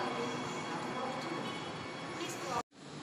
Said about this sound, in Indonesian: Nah, kereta LRT datang